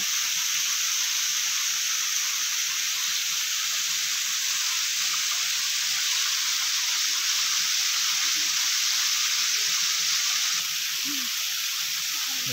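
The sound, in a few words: small waterfall in tribal area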